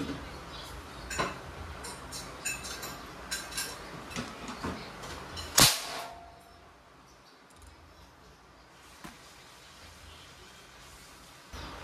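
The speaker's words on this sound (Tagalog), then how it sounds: "Crossman Magpar Ultra 177. Firing." A Crosman MagFire Ultra .177 nitro-piston break-barrel air rifle fires one sharp, loud crack partway through, with quieter clicks and handling taps before it and near-silence afterward.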